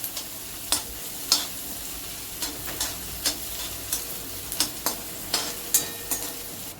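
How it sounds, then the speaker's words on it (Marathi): Onion, ginger and garlic sauté on a high flame for a cabbage Manchurian gravy, with a constant sizzle under sharp, regular spatula scrapes and taps against the pan. "त्यामध्ये कांदा, आपल्याला सगळं फास्ट गॅसवर परतून घ्यायचंय"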